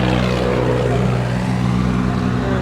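A Swaraj 856 tractor engine runs steadily at close range, a loud, continuous low diesel drone with a throbbing rumble that holds even throughout.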